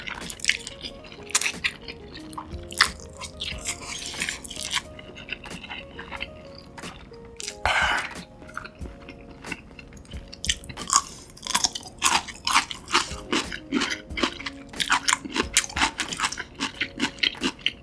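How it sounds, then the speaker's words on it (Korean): Spicy fire noodles eaten with tteokbokki sauce, recorded very close: wet slurps, sticky chewing and smacking, with occasional crunchy bites, in steady bursts across the whole stretch and no talking. "떡볶이 국물을 면수처럼 이용해서 먹어볼게요."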